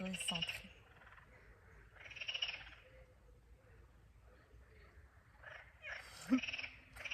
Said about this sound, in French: Le chant des grenouilles qui est bien également.